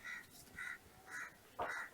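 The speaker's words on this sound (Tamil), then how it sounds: "இங்கே பாருங்க எத்தனை காக்காங்க." Several crows caw in repeated harsh calls, about four bursts in quick succession, fairly close and loud, with no talking over them, gathered outdoors around scraps of omelette.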